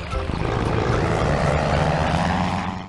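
A cartoon airplane in a Fisher Price computer game drones with a steady propeller engine roar, loud and continuous before cutting off abruptly.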